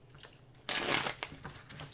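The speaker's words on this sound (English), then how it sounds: "I'm going to ask about Biden's too. So I'll pull 5 cards of the tarot and then 2 cards of my oracle" Tarot and oracle cards are shuffled in a short, soft burst of papery riffling and sliding, close and quiet.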